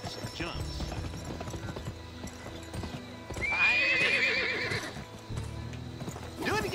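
Horse hooves clip-clop at a gallop in the Western video game Gun, with a loud whinny bursting out in the middle and another neigh near the end, over game music and ambient noise.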